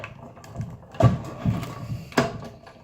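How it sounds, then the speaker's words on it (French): A few dull, irregular thumps of a table knocking against a wall, with faint background noise between them. "Le boum boum boum que vous entendez, c'est ma table qui cogne contre le mur"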